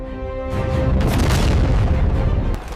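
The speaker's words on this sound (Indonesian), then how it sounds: "rudal-rudal paling mematikan Iran dilepaskan" Iranian missile launch, a loud, sustained rumbling roar that builds quickly and holds for a couple of seconds before easing off.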